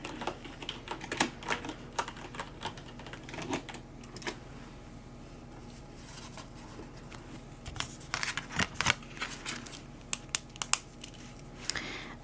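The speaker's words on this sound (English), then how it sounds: "And I'll type that in." Rapid typing on a computer keyboard while cataloguing library books, with quick bursts of close, crisp key clicks, short pauses between runs and a busier flurry near the end.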